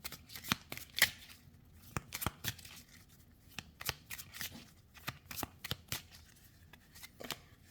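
Oracle cards being shuffled by hand, a rapid series of crisp riffling snaps and soft papery slaps, close and fairly quiet, with no voices.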